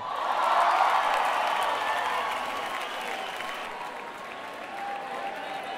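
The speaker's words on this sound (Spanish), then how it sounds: "Un fortísimo aplauso a uno de los momentos de la noche" Concert crowd in a venue giving a loud, sustained round of applause with scattered cheers after a performance, the clapping swelling early and then holding steady.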